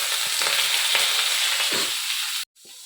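Chopped ginger, garlic, green chilli and onion fry in hot oil in a village kitchen, giving a dense, steady sizzle with a few stirring scrapes that cuts off abruptly into near silence.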